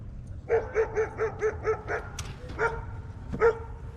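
A puppy gives a rapid run of six or seven high yapping barks, then a few more spaced yips and a whimper, close and loud over quiet outdoor background.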